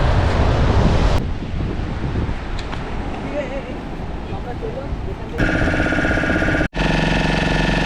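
Sea waves at Dublagadi beach in Balasore make a broad, steady rush mixed with wind buffeting the microphone, loud and close, and a droning mechanical tone joins near the end.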